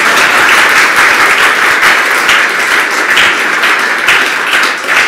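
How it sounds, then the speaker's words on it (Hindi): A large congregation claps during a Jain religious discourse, a dense, loud, steady wash of applause filling the hall without a break. "एक बार तालियां तो बजाओ।"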